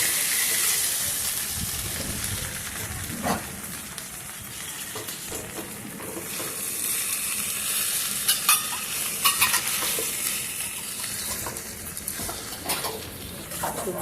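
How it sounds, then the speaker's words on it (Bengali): A spatula scrapes and clinks against a pan as drained sago is stirred through sizzling vegetables, a steady close hiss broken by irregular metallic taps and scrapes, with no talking. "সাবুগুলো দিয়ে ভালো করে আমি নেড়ে চেড়ে মিশিয়ে নিয়েছি।"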